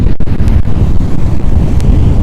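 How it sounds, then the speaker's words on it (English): Strong wind at Grand Palladium Costa Mujeres beach buffets the microphone in a constant heavy roar, with gusty rumbling throughout and no voices. "Today is super windy"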